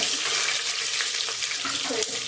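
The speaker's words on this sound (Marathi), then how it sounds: "भाजून घेऊया कांदा" Chopped onion frying in a pan for green pea masala rice, a dense continuous sizzle and crackle close up, with light scraping of stirring throughout.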